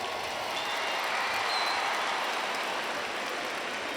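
Huge audience at Barcelona's Estadi Olímpic applauding during a concert, a dense, continuous roar of clapping and crowd noise that holds steady throughout.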